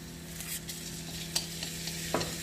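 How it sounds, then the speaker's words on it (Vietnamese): Garlic and chili frying in a pan on the stove, a steady soft sizzle with a faint background hum and a few clinks and stirring scrapes breaking through. "Rồi mình sẽ cho tỏi ớt vào mình sấy"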